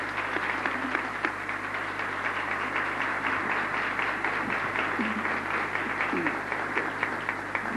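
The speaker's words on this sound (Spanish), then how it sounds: "rendirle un primer tributo a través de un aplauso caluroso para darle la bienvenida" Warm audience applause greets a speaker at a lecture on nervous system aging, a steady wash of many hands clapping throughout at moderate level, with faint murmuring underneath.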